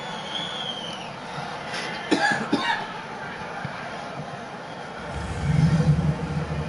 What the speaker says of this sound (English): I have a bit of an allergy cough going on here.